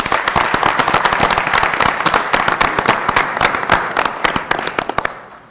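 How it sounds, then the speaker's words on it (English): Applause from an audience at a community forum on stopping violence in Winston-Salem, a dense, loud burst of hand claps that holds steady and then thins into scattered, sharper claps near the end. "Please give a round of applause for Ms."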